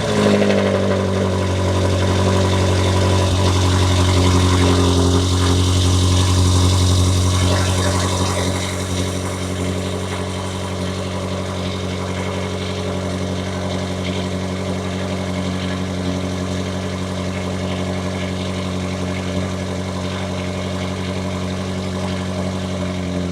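A BMW F90 M5 Competition starts cold, its engine settling from a loud, high initial idle into a steady, lower rumbling idle, heard close with no voices.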